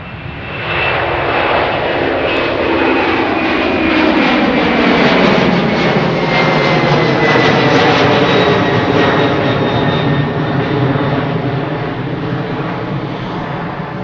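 A fixed-wing airliner departs Edmonton International Airport, its engine roar loud and sustained, pitch slowly sliding as it climbs past and away.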